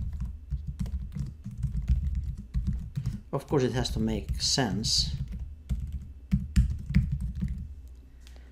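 Typing on a computer keyboard while working in Microsoft Access 2019, a steady stream of close, light key clicks running under someone speaking throughout.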